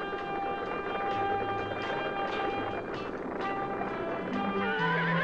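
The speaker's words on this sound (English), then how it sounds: "And wild horses, hundreds of them, in the great sand hills of the Western Plains." Wild horses whinny and neigh over a dense rumble of hooves clip-clopping, a busy herd of hundreds in sand hills of the Western Plains, heard at moderate distance.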